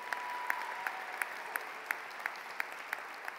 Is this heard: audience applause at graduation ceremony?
yes